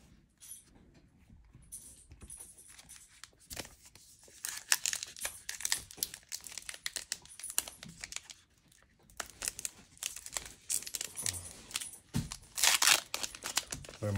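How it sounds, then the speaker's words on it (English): A dog plays with crinkly 2022 Topps baseball card pack wrappers on the floor, making irregular crinkling, rustling and tearing bursts that come and go for several seconds, with no voices. "my dog likes playing with the wrappers I throw on the floor"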